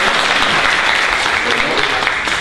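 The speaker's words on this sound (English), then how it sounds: "Give him a round of applause." Audience at a parent workshop with poetry and writing breaks into loud, close applause that holds steady and unbroken through the whole short stretch.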